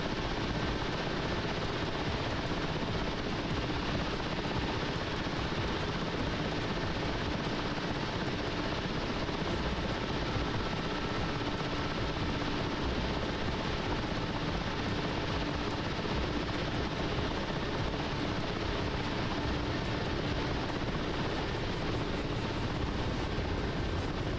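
Helicopter engine and rotors in the DCS World flight simulator game keep up a steady, loud, broadband drone with no break, unchanging over more than twenty seconds.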